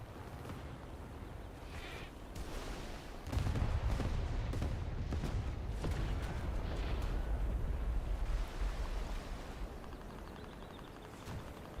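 Rumbling blasts from a bridge bombing in a combat video game, a dense, continuous run of heavy low booms and crackling detonations that swells louder partway through and stays loud, with no talk.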